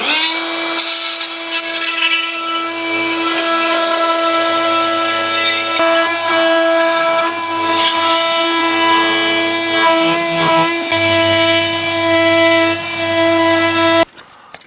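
An oscillating multi-tool cuts away a protruding thickness of wood with a loud, steady buzzing whine. It holds its pitch with small load changes for most of the run, then cuts off abruptly near the end.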